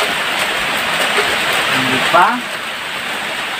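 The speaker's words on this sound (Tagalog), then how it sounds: "Umuulan kasi, guys." Steady rain falls outdoors in a constant hissing wash, fairly loud throughout, with a brief spoken question over it.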